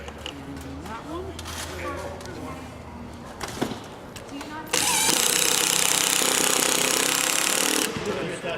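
An impact driver drives a bolt into solar panel mounting hardware, its hammering action kicking in under resistance. A quieter stretch with people talking gives way to about three seconds of loud, rapid, rattling hammering close by.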